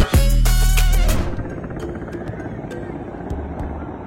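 A helicopter flies over water, its rotor thudding in a loud, steady beat that fades back after the first second into a distant drone under a voice.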